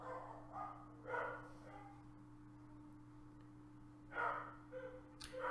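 Dogs barking indoors, a few short bursts of barks and yips at the start, a quiet pause, then another cluster near the end, moderately close over a steady electrical hum.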